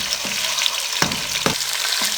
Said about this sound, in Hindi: अदरक और लहसुन के पेस्ट को मीडियम फ्लेम पे आधा मिनट फ्राई करेंगे।